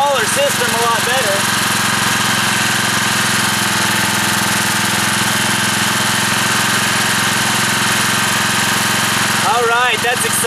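A 4,000 watt industrial-grade generator running on wood stove smoke gives a loud, steady mechanical drone with a constant hum throughout, and brief voices near the start and end.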